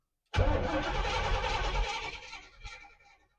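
Pontiac Firebird engine cranking and catching, a loud sudden burst of starting noise that holds briefly, then fades down over a couple of seconds, close by.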